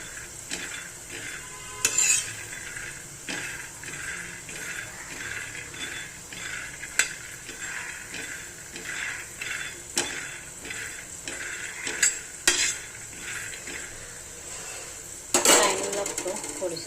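Peanuts roasting in a pan, with repeated rhythmic scraping and stirring strokes, light sizzle and occasional sharp clinks of utensil against metal, close and unaccompanied by talk.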